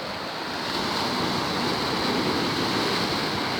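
Sea waves break steadily on the shore at a beach in Salé, Morocco, a continuous broadband roar of surf mixed with wind buffeting the microphone, with no voices.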